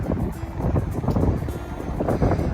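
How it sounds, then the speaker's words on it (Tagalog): Gusty, cool night wind in Kuwait buffeting the microphone in a steady rumbling roar, with faint outdoor background noise and no talking. "Malamig ang simoy ng hangin."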